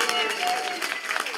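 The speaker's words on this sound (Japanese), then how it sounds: "拍手。" Applause from a concert audience at Banana Hall in Osaka during band member introductions, a brief, moderately loud wash of clapping with a voice speaking over it.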